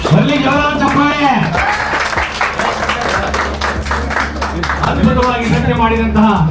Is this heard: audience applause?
yes